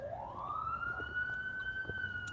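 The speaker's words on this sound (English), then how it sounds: "Sorry about the sirens." A single emergency vehicle siren wails in the distance outside in Los Angeles, its pitch climbing and then holding steady in a long, sustained tone with no one speaking.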